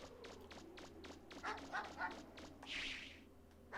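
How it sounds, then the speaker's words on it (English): Dog barking in the video game Mega Man Legends, a quick run of short, evenly spaced yaps followed by a longer whining bark, fairly faint. "Whoa! It's a dog!"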